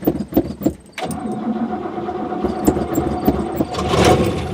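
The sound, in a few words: car engine starting after battery replacement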